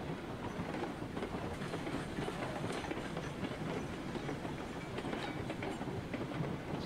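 Montezuma steam locomotive in the game RailRoads Online rolls along with a steady, dense clickety-clack of wheels over rail joints, continuous and fairly loud throughout.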